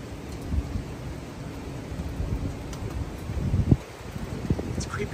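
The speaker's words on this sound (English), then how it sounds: "the wind's blowing right through the trees" Strong gusts in a New Jersey windstorm blow through trees, making a steady broadband rush with rustling that swells and eases, with no one speaking.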